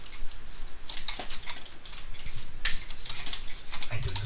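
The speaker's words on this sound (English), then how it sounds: "I really don't want to do this with my non-mechanical keyboard" Typing on a non-mechanical computer keyboard during an Overwatch session, a rapid, irregular patter of soft, close keystrokes running continuously with no voice over it.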